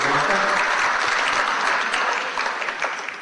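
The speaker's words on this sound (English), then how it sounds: "give them a nice round of applause" A crowd at a darts match claps loudly and steadily in dense applause that tapers off slightly toward the end.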